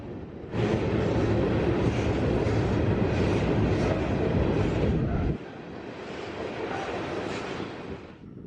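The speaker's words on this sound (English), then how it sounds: "The train is passing its westbound counterpart" A BNSF freight train on Iowa's Ottumwa Subdivision rolls past close by, a loud continuous rumble of heavy wheels and cars with clickety-clack rhythm; the roar drops abruptly partway through and continues somewhat quieter.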